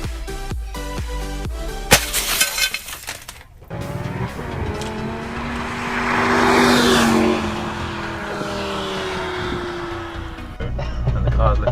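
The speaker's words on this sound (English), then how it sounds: "And the car's literally swerving all over the place." A car swerving all over the place, with loud engine revving and tire squeal rising and falling amid background noise and a few sharp clatters, voices faint beneath.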